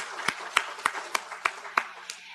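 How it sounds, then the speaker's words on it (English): Sparse, slow clapping at a patient conference, about seven separate claps spaced evenly and close by, with quiet room tone between them. "So let's give a round of applause for that."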